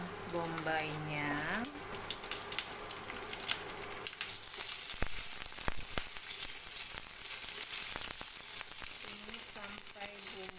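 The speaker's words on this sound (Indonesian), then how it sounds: "Kemudian goreng bawang bombaynya." Onion fries with ginger in a spoonful of cooking oil in a pan for a sweet-and-sour fish dish, giving a steady, fairly quiet sizzle with occasional crackles and stirring clicks, and a voice is heard briefly at the start.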